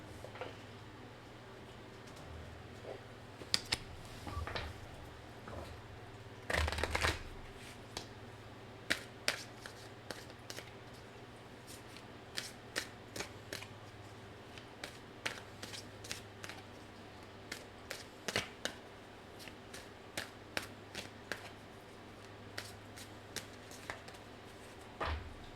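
Tarot cards from an Aquarian deck being shuffled and drawn for a reading, a run of crisp riffling flicks and soft slaps that comes and goes in short bursts, with one louder shuffle early on, over a quiet steady hum.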